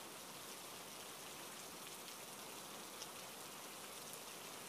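Steady rainfall in an animated Bengali fairy-tale scene, an even, faint hiss of drops pattering on surfaces with no talking over it.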